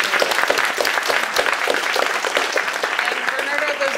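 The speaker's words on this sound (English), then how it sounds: "Can we please give a round of applause for our panelists?" Dense applause from an audience for a panel discussion, a steady wash of many hands clapping at once, fairly loud and continuous throughout.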